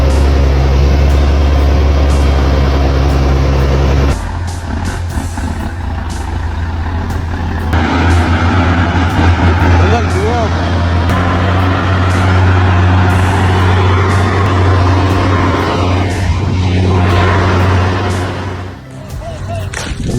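Heavy logging truck loaded with logs grinding uphill, its engine roaring loud and steady with a deep rumble and shifting mechanical noise throughout.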